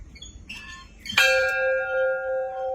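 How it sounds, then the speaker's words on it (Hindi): Bell at the Ravana temple in Ella, Sri Lanka, struck once after some faint shuffling, giving a bright metallic clang that rings on with a sustained, slowly wavering hum. "घंटा बज गया है।"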